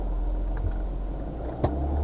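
A 1989 Austin Mini 30 drives along the road with a steady, loud, noisy low engine and road rumble inside the cabin, marked by a brief click partway through.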